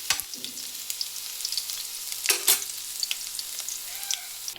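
Ginger sizzling in hot oil in a pan for Kerala egg rice, a steady close frying crackle with a few louder stirring scrapes, no voices.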